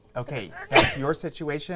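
A single sharp, loud sneeze bursts out in the middle of a woman's and man's conversation, brief and close amid ongoing talk.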